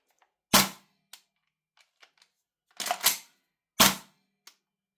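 Tokyo Marui MWS airsoft rifle with a magazine inserted, firing three sharp, close snapping shots spaced about a second and a half apart, with faint mechanical clicks between them.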